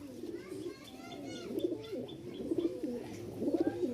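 A pair of Rajshahi Giribaz pigeons, a male and a female, coo up close in repeated soft rolling phrases that come in short bursts, with faint background noise.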